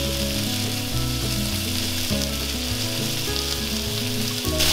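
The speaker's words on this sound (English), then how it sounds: "I'm just gonna stir this in and let it wilt down" Baby spinach is stirred into orzo in a skillet with the heat just turned off, giving a soft, steady sizzle and scraping beneath prominent background music.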